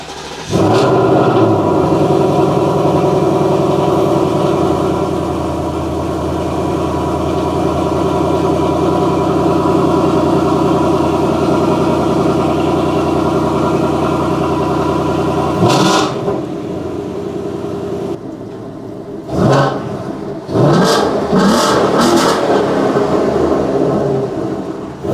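A car engine with an H-pipe exhaust idles loudly and steadily for about fifteen seconds, then is revved in several sharp, rising blips before settling again.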